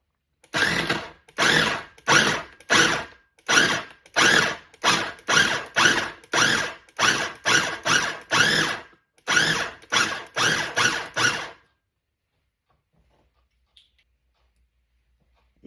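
Food processor pulsing chopped cushaw squash pie filling, about twenty short whirring bursts in a steady rhythm, loud and close, then stopping to near silence.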